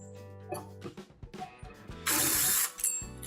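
Screw being backed out of a Viking gas range, rapid ratcheting clicks of a driver turning in short bursts with a brief louder hiss of mechanism, close and alone.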